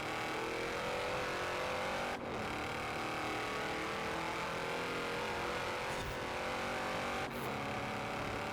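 Race car engines from Forza Horizon 4 drone steadily throughout a competitive race, a loud, continuous engine roar with shifting pitch and a few brief dips as gears change.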